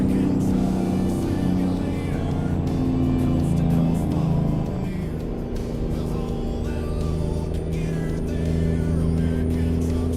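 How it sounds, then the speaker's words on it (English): In American Truck Simulator, a 389 glider truck hauling cattle rumbles in a low, steady drone, revving and shifting gears with rising and falling engine tones, loud and continuous, with no talking. "Really loving the sound of this engine, too."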